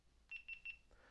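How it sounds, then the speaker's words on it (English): A camera gives three quick, evenly spaced high electronic beeps, close and clear, followed by a faint click in an otherwise quiet setting. "3 magic beeps."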